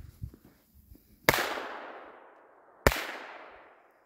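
Two single-shot firecrackers go off one after another, each a sharp loud bang with a lingering echoing decay, about a second and a half apart, after a few faint rustling sounds.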